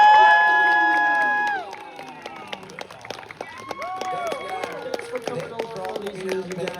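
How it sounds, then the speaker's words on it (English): A convention panel audience at an anime event breaks into cheering and applause, loud at first with sustained tones, then settling into scattered claps and crowd noise for the rest. "Let's have another round of applause for"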